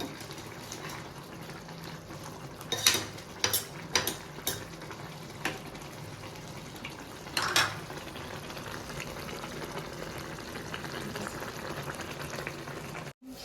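A pan of gongura and dry fish curry bubbles and sizzles steadily with a soft, continuous simmer as it thickens, punctuated by a few sharp clinks of a utensil against metal.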